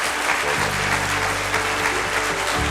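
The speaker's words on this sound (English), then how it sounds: "can we give Frank Bruno an absolutely fabulous round of applause" An audience applauds Frank Bruno, with steady, dense clapping from a crowd that holds at an even level throughout, broken by a brief low hum.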